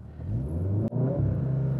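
A tuned Stage 1 VW Golf R holds its engine at steady revs using launch control, a loud, close droning rumble with a brief sharp dip midway before the revving resumes.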